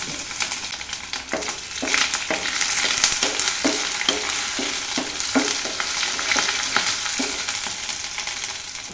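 Curry leaves, green chilies, ginger and garlic frying in oil in a pan on a medium flame for an okra curry, giving a bright close sizzle with regular scraping stirs.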